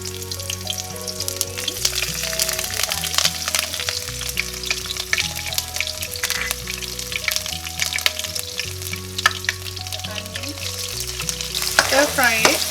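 Lemongrass fries in about a ladle of hot oil with a dense, crackling sizzle throughout, partly covered by steady background music, without speech.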